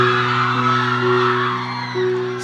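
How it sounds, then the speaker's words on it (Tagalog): Dense outdoor concert crowd in Sto. Domingo, Albay, cheering and shouting in a steady wash of noise, with a low sustained hum beneath and a brief swell at the end. "Bakit mas malakas yung sigawan nyo sa kanila?"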